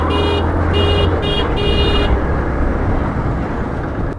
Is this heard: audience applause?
no